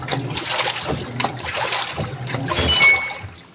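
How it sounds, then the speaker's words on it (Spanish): Rinse water from a first rinse after washing laundry with Roma soap trickles and splashes steadily, a close, continuous watery patter. "así va el agüita del enjuague"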